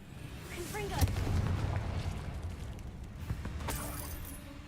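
Confringo spell blast in the Hogwarts Legacy video game: a sharp booming impact bursts out about a second in, then rumbles and fades, followed by a fainter crackling hit, with some quiet speech around it.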